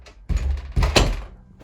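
A wooden door rubbing and thunking against its frame where a thin layer of paint makes it catch, giving two dull close knocks in quick succession with no talk.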